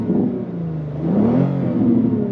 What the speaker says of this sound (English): I'm gonna rev it.